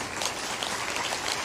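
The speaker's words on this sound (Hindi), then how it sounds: "ताली बजा दो।" A large seated audience at a spiritual discourse applauds in a steady, dense wash of clapping with no pauses.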